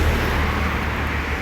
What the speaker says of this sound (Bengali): এইটা হইলো ঢাকা চট্টগ্রাম হাইওয়ে।